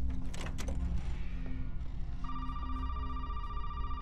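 An in-game telephone rings in Resident Evil 7 with a steady electronic tone that starts a couple of seconds in, over a low, murky background.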